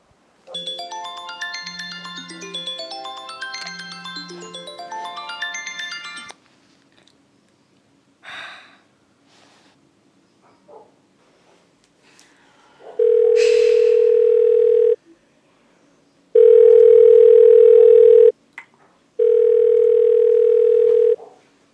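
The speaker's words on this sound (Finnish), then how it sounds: "Sit sä yrität soittaa sille ja se ei tietenkään vastaa sulle." A phone ringtone melody plays in two repeated runs, then after a pause a steady outgoing ringback tone sounds in three long beeps while the call goes unanswered, with faint breathing between.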